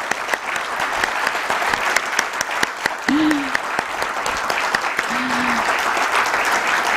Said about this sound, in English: let's have a huge round of applause for Indegene Limited